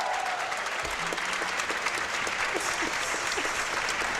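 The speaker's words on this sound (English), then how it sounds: "are more people gonna clap" Applause from an audience at a jigsaw puzzle championship as a competitor finishes, steady sustained clapping from a moderately distant crowd with no talk over it.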